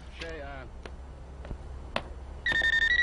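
A phone rings in a home during a TV drama scene, with speech and short clicks before a steady electronic ringtone sounds out clearly over the last half second.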